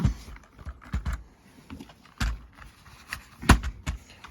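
Typing on a Firefight K14 keyboard produces irregular, soft clicks and taps at close range, with uneven bursts and pauses between keystrokes.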